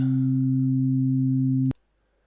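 Two sine waves with harmonic distortion make a steady, buzzy electronic tone that holds evenly for under two seconds before cutting off abruptly with a click.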